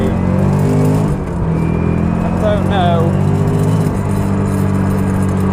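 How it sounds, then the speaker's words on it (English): A Nissan 350Z drift car's engine revs hard and bounces off the rev limiter, a loud, sustained, close-up roar with brief stuttering cuts at the limiter. "like on drift days when you're just hitting the limiter constantly, like I only hit it for like a couple of seconds there"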